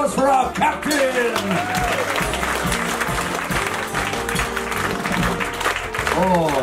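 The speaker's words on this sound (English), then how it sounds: "Big round of applause for our captain!" Loud, sustained applause from an audience fills the whole stretch, with cheering and voices mixed into the clapping.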